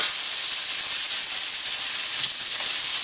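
Fish sauce poured into aromatics sautéing in a pot, giving a loud, steady hiss and sizzle with no break, close up.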